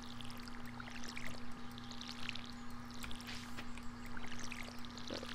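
Crops being watered with a watering can in the farming game Stardew Valley, a faint steady pouring trickle over a constant low hum with scattered soft splashes and no talking.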